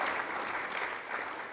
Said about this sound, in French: Pour l'applaudir